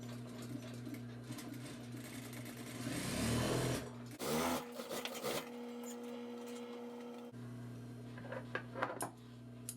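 A sewing machine stitches a small stay into the right breast pocket of a Jamaican shop coat, running in a steady mechanical whir with a louder burst in the middle, then short bursts and pauses as the fabric is adjusted.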